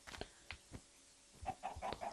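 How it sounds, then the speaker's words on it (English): A chicken in the Minecraft video game makes a string of short, clipped clucks, scattered irregularly and fairly quiet against near silence. "I found a chicken."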